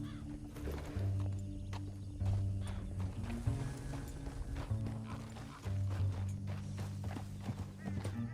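Horse hooves clip-clop in a steady galloping rhythm in the video game Red Dead Redemption 2, under a low tonal music bed and occasional spoken dialogue.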